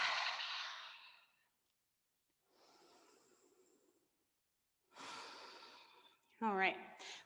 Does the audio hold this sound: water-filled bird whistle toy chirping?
no